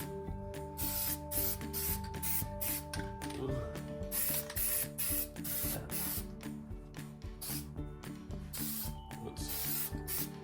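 An aerosol can sprays Plasti Dip onto Nissan Xterra Pro-4X emblems in short repeated bursts. A ratcheting, mechanical hum runs continuously underneath, and no voices are heard.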